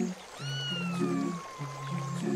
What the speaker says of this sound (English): Look, Laith, there's a kitten stuck on the rock in the river.